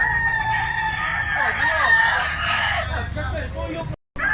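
A Lemon 84 bloodline bullstag gamecock crows loudly nearby in a long drawn-out call, with other fowl clucking and background chatter.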